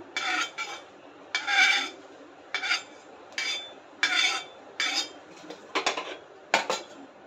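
Roasted cumin seeds scraped from a pan onto a plate, a series of about ten sharp metallic scrapes and clinks in an uneven rhythm, close and clear with no talk.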